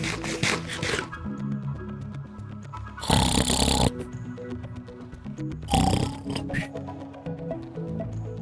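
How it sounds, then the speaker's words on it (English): A character sleeping in bed in the Minecraft video game snores loudly in two long, rasping breaths, separated by a quieter stretch, over soft game music. "I might leave that sleeping in just for the pure humor of the snoring."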